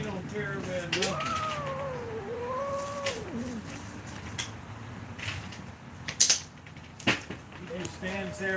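A cat meows and yowls in drawn-out, rising and falling cries during a scuffle with other cats, heard under steady background noise with a few sharp knocks and clatters toward the end.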